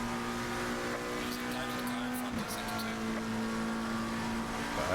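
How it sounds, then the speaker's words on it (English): A race car leaves the pits with a loud, sustained engine drone and tonal whine that shifts pitch midway as it accelerates, heard close and continuous. "This is a car leaving the pits."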